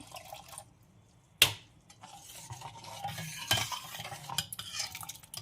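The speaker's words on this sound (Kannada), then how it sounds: "ಈ ಖಾರ ಹಾಕಿರೋದನ್ನ ಮಿಕ್ಸ್ ಮಾಡ್ತಾ ಇದ್ದೀನಿ." A spoon scrapes and stirs chili-spiced cowpea and milk curry in a pot, a sharp clack near the start, then steady wet swirling and soft clinks growing louder, with no voices.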